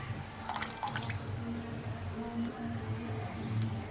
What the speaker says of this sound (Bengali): একটি অন্য পাত্রে আমি আলুটা ভালোভাবে ছেঁকে তুলে নেব জল ঝরিয়ে